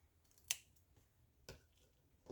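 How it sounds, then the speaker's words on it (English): Paper cut in half with scissors during a papercraft session: three short, crisp snips spaced about a second apart, close and fairly quiet, with no one talking. "I'm gonna cut it in half"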